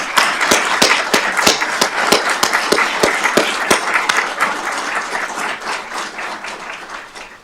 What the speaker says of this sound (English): Let's give those individuals a round of applause.